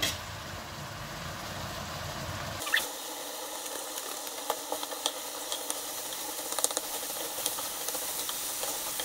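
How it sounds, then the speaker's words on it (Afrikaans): Bobotie cooking sauce poured from a packet into a pan, a soft continuous wet hiss and gentle bubbling with scattered drips and small clinks, heard close up. "Ek het so 'n pakkie bobotie cooking sauce gekry wat ek gaan oorgooi."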